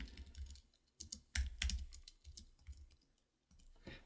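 Computer keyboard typing watermark text into a photo-editing program: bursts of close, crisp key clicks in uneven clusters with short pauses between, alone without talk.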